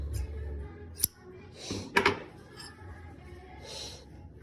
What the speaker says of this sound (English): I'm going to cut that yarn.